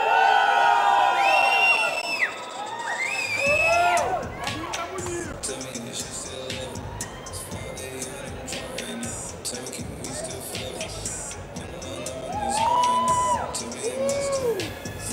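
Crowd cheering and whooping at a Bruno Santos vs. RudeBoy challenge on a stage, loud bursts of shouts and yells rising over steady crowd hubbub, swelling again near the end.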